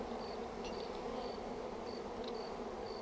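Honey bees buzz in a soft, continuous drone while being hived in April, the hum faint but constant with a few brief higher-pitched passes.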